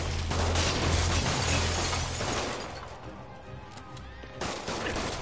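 Gunfire from thugs shooting at Spider-Man in Marvel's Spider-Man on PS4, dense loud bursts over game music and voices in the first three seconds, then thinning out.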